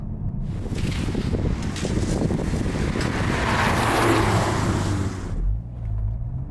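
A Ford Focus ST with front-wheel drive pulls away hard with a burst of wheel spin, its engine roaring loud and close under heavy wind noise for about five seconds before cutting off.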